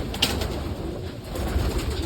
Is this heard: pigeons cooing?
yes